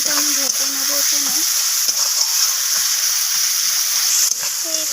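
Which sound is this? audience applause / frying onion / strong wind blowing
frying onion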